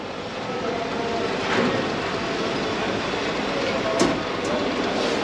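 A local train at Kamalapur station in Dhaka gives off a steady low rumble of cars with a few faint clicks and squeaks, moderately distant.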